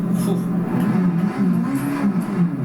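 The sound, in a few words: Porsche 919 Hybrid engine in the video game Assetto Corsa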